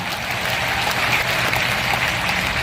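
Audience applause at a large religious gathering, a steady burst of many hands clapping heard alone for a few seconds.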